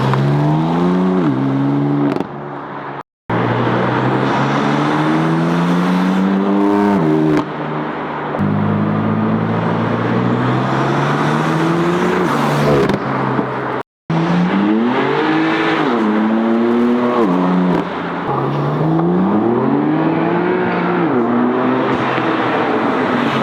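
An F8x-generation BMW M car (M2, M3 or M4) fitted with a Turner Motorsports cold air intake revs and accelerates hard through repeated gears, its loud rising engine note cut by brief shift pauses.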